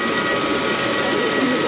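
Roller coaster train on the Pégase ride at an amusement park, a steady rolling rumble that holds at an even level throughout, with a faint voice partly mixed into the noise.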